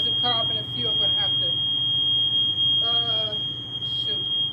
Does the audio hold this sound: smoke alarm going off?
yes